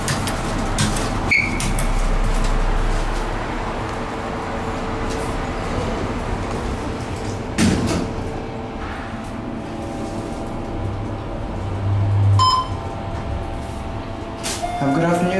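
Schindler 500A traction elevators in a Sugar Land parking garage: a low, steady cab hum with door thuds and slides. People talk intermittently over the ride.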